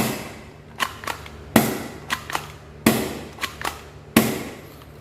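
DCobra P377 air pistol firing during cocking and shooting practice, with four sharp, close shots at regular intervals, each followed by quieter mechanical clicks as the gun is worked.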